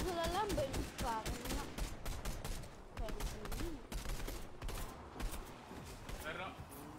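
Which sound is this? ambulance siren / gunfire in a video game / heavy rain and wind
gunfire in a video game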